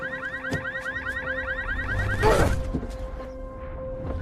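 A car alarm sounds in repeating electronic warbling cycles, loud and steady, interrupted midway by a brief crash-like clatter before the siren continues.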